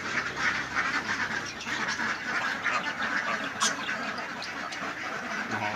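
A flock of laying ducks on a farm quacks continuously, with many overlapping calls at moderate volume and no talk.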